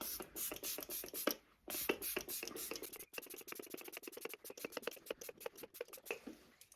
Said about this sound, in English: I'm using the Maybelline Lasting Fix setting spray